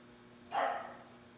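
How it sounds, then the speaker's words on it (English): A single dog bark sounds faintly in the background, brief and distant, against a quiet room hum. "Dog's barking in the background, just so you know it's real."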